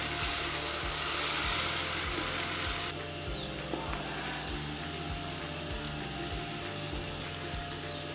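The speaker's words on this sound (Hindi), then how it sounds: "अब हम इसमें ऐड करेंगे लहसुन और अदरक का पेस्ट। और इसे भी अच्छे से हम फ्राई कर लेंगे।" Garlic and ginger paste fries in a pan for a gobi gosht curry, giving a steady, close sizzle with a dense hiss that runs the whole time and eases a little partway through.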